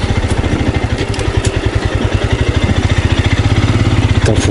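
A Royal Enfield Scram 411 motorcycle rides off-road through sand, its single-cylinder engine thumping in a loud, rapid, even pulse close by, with occasional clattering.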